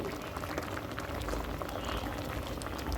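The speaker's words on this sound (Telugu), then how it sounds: "ఇది ఫైనల్లీ అయితే బాయిల్ అయిపోయినాయి అండి" Cassava (tapioca root) boiling in water on a stove, a steady dense bubbling and rolling churn close by, continuous for the whole stretch with no pauses.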